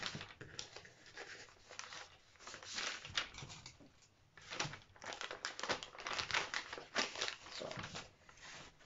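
Scissors cutting paper sewing pattern pieces, close and quiet, with irregular crinkling, rustling and snipping that comes and goes in short bursts, with no speech.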